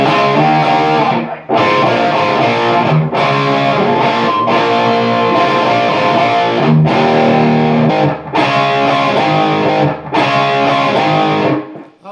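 Distorted electric guitar power chords close the chorus of a song, loud, sustained strums broken by brief pauses between chord hits.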